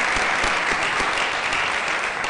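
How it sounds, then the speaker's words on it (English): Steady applause from an audience at a luncheon, a dense wash of clapping that holds at an even level throughout. "give her a round of applause"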